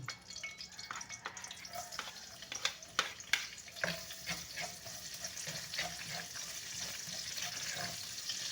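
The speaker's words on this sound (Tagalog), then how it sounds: "gisa na natin itong bawang" Garlic sautéing in a pan during a brownout, a steady soft sizzle with scattered clicks and stirring scrapes, fairly quiet and continuous with no talking.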